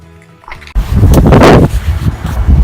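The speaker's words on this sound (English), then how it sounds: "it's a bit windy, so I hope you can hear me" Strong wind blows across open Dartmoor moorland, a loud, full rumble buffeting the microphone that starts abruptly and gusts unevenly.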